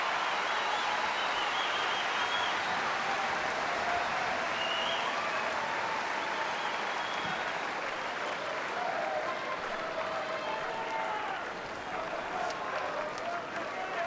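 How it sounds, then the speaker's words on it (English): Sustained applause and cheering from a large tennis crowd at an Australian Open quarterfinal, erupting after a held serve; dense, continuous clapping fills the whole stretch at steady loudness, easing slightly near the end. "Crowd erupt as Hewitt holds serve for 5 games all."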